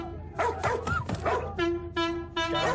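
A dog gives a run of short barks and yips, close and fairly loud, in several bursts with brief whimper-like tones between them.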